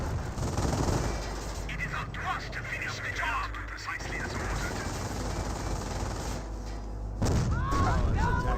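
Sustained MG42 machine-gun fire in Company of Heroes, a steady battlefield clatter lasting throughout, thickening with heavier bursts near the end, while a caster's voice talks over it.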